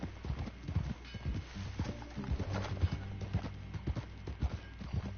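Horse hooves clip-clop steadily on the ground in Red Dead Redemption 2, a close, rhythmic run of hoofbeats with a brief whinny-like snort and low ambient hum beneath.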